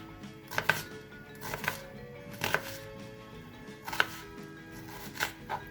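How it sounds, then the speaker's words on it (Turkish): Knife chopping an onion into large pieces on a board, a series of sharp irregular thuds and taps, close and moderately loud, with no talking. "Soğanımızı da büyük büyük doğrayalım arkadaşlar."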